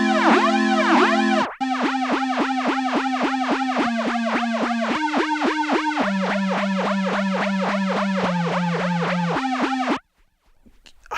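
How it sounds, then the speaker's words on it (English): A Dreadbox Abyss analog synth runs through its Reflector effect with the LFO set to a sine wave, giving a rapid sequence of plucky notes with sweeping, swooping overtones, loud and continuous for several seconds before cutting off. "So that's the Reflector effect."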